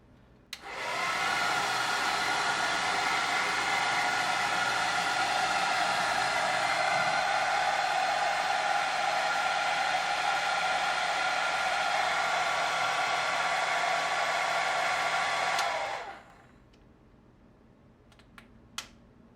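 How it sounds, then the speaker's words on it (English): A hair dryer, powered by a LiFePO4 portable solar power station, whirs steadily on a low warm setting for about fifteen seconds, then cuts off, leaving quiet with a few faint clicks. "take this hairdryer, I'm going to put it on a low setting first,"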